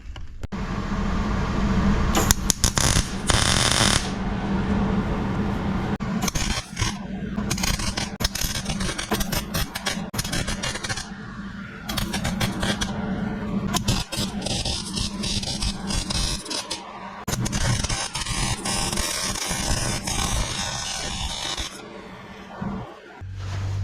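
A Willys Jeep pickup part is welded, with a steady harsh crackling buzz that runs almost continuously for the whole stretch, close and fairly loud, broken by a few brief pauses.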